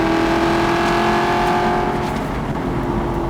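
A 2009 Aston Martin Vantage with the 4.7 engine revs up to about 5,000 RPM in a loud, steady roar that holds close and dense throughout, without any voices over it.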